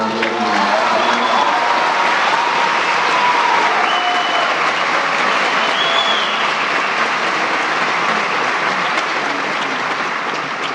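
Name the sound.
audience applause at a festival talk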